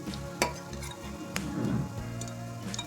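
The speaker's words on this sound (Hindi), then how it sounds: "प्याज को हम लाइट ब्राउन होने तक फ्राई करेंगे।" Onions sizzle and crackle steadily in a hot pan as they fry to light brown, with a couple of sharp utensil clacks and stirring sounds partway through.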